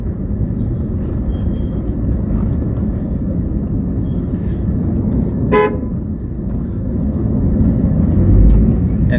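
Moving traffic rolls along the Mumbai–Goa highway (NH 66) between Nandgaon and Kankavli, with a steady low road rumble, one brief car horn toot midway and passing vehicles close by.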